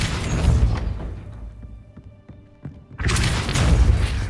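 Depulso force-push spell cast in a Harry Potter video game, a deep booming thud with a blast of noise, a quieter stretch with faint tones, then another loud rumbling impact.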